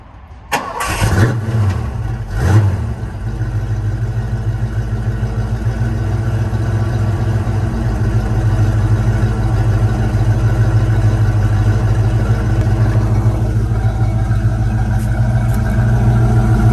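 Foxbody Mustang fitted with a Mac X-pipe exhaust fires up from a cold start, the engine catching with a burst and then settling into a steady, loud, rumbling idle that holds close by for the rest of the clip.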